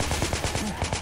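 A big gun firing in Left 4 Dead 2, a rapid burst of heavy automatic shots in quick even rhythm, loud and close, with no talk over it.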